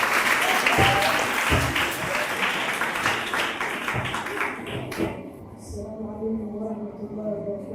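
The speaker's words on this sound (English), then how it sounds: "Let's welcome them to the stage. Clap, clap, clap" Audience at a Grade 6 graduation ceremony clapping as students come to the stage, steady dense applause that thins and stops partway, followed by a quieter voice.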